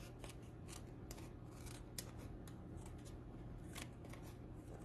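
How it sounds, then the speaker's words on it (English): Scissors snip and slide through paper along an edge in a quick, irregular run of crisp cuts, faint and close, with no voices. "I can just go ahead and cut this right along the edge"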